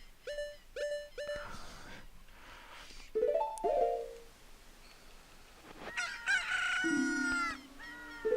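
Chicken clucking and a rooster crowing in the Zelda: Ocarina of Time video game, a few sharp repeated squawks followed by drawn-out crows and a honking cry, loud and near, with no talking.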